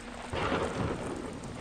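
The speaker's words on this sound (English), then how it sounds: "Especially when it is raining." Rain and thunder in the video game Deadly Premonition: a steady wash of heavy rainfall with a low rumble of thunder swelling briefly midway, with no voices.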